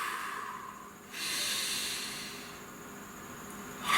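Long, deep breaths taken close up, a slow airy inhale rushing in, then a gentle extended exhale, with another breath starting at the end.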